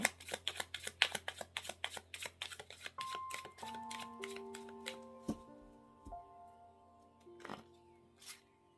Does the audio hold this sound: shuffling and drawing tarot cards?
yes